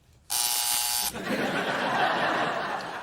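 A harsh, loud quiz-show buzzer blares for under a second, then laughter from an audience rises and lingers, all in a sitcom game scene.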